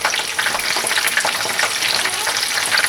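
Chicken à la king sauce bubbling and sizzling steadily in a pan, a dense continuous hiss with small crackles throughout, close and fairly loud with no talking.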